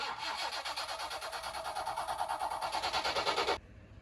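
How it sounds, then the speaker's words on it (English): The engine of the Thames barge Ardwina, newly fitted with a replacement fuel pump, runs loud and close with a steady throbbing chug for several seconds before cutting off abruptly, leaving faint background noise. "we'd got the engine back up and running"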